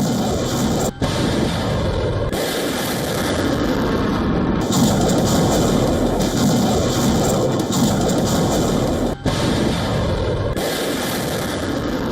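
An experimental Russian missile strikes a factory in Dnipro, Ukraine, producing a loud, sustained broadband roar with crackling and rumbling that continues almost unbroken, with only two brief dips and no voices.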